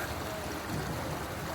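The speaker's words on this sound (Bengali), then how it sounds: "পানির শব্দটা কিন্তু অনেক সুন্দর।" Water flowing and trickling steadily at Jaflong on a rainy day, near boats moored along the river; a continuous broadband rush fills the short stretch with no voices.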